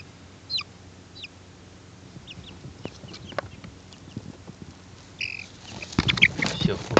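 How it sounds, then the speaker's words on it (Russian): A young multicoloured chick with a lump growing on its head peeps and clucks in short, faint, scattered calls that grow busier and louder toward the end. "Красивый цыпленок, конечно, такой вот разноцветный"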